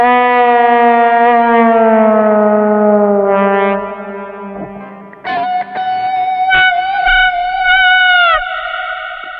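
Electric guitar shaped by software processing into an almost voice-like tone, with sustained harmonic-rich notes that slide and shift pitch, playing loud and alone with a brief break partway through.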